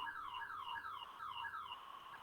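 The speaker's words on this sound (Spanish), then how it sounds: "No sé si es mi alarma" An electronic alarm rings in a repeating warbling pattern of sweeping tones, steady and moderately loud, sounding alone without talk.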